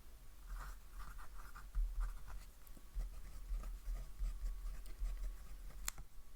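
Fountain pen with medium and extra fine nibs scratching across paper, a soft steady scritching of strokes with brief pauses and a faint tick near the end, quiet and close.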